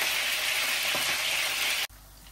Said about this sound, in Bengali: চিকেন দিয়ে এখন ভেজে নিতেছি, সুন্দরভাবে লাল করে ভেজে নেই।